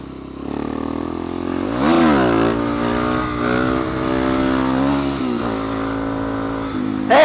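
Motorcycle riding along a gravel road, engine droning steadily with a rising rev near the start, gravel crunch and clatter underneath, close and continuous.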